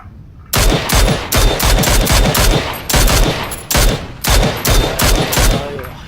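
Rapid automatic gunfire from PUBG: Battlegrounds, loud bursts of machine-gun fire in repeated volleys with brief pauses between them.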